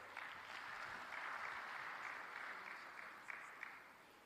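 Applause at the Third G25 Africa Coffee Summit in Dar es Salaam after a declaration is read, a steady, fairly distant crowd clapping with a few sharper claps near the end.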